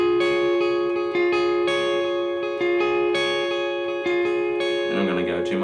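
A lead electric guitar plays a worship song in tempo, with steady plucked notes over a held drone and a lightly effected, sustained tone that sounds close and fairly loud.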